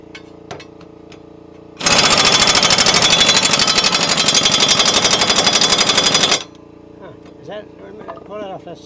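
A pneumatic impact wrench hammers at a lawnmower blade nut in one loud, steady burst of rapid rattling lasting about four and a half seconds, with quieter workshop noise and faint sounds before and after.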